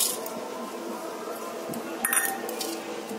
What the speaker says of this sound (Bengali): চালটাকে ভালো করে ধুয়ে নেব।